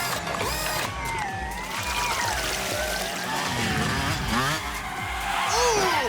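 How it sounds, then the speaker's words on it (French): Cartoon go-karts racing, one overtaking another, with a buzzing engine drone and squealing tires, layered with music and sliding whistle-like tones. "Le kart blanc Albacorp est en train de doubler"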